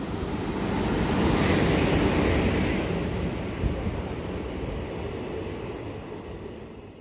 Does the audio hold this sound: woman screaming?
no